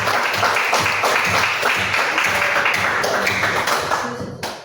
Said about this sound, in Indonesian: berikan aplaus untuk teman yang sudah menjawab